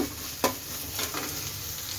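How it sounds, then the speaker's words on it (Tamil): Onions sautéing in a nonstick pan hiss steadily up close, with a sharp scrape of a spatula near the start and softer stirring strokes after it. "இப்போ ஆனியன் வந்து ஓரளவுக்கு வதங்கிடுச்சு"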